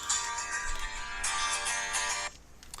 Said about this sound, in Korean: 햇살론에서 전화가 왔네.